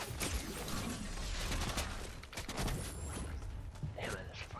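Enemy gunfire crackles in a multiplayer shooter game, a dense run of quick sharp reports with mechanical clatter, fairly quiet and partly masked, with a person talking over it.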